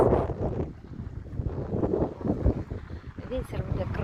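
Very strong wind buffeting the microphone in a continuous rough roar with gusty swells, while a person talks over it.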